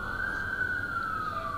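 A police vehicle siren wails in a horror audio drama as the police cars drive away, a single high steady tone sliding slightly lower, moderately loud against a quiet background.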